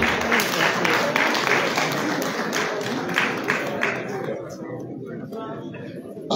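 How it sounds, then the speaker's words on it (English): Applause from the audience at a Liberian youth empowerment event, brisk claps in the first few seconds that thin out and fade while voices talk underneath. "Please clap for Aliu"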